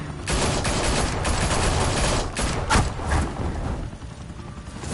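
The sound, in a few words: gunfire in the Batman Telltale video game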